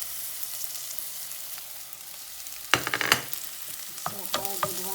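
Garlic dropped into hot meat drippings in a pan, a quiet background hiss jumping into a loud, crackling sizzle with stirring scrapes, then settling into steady frying with sharp pops.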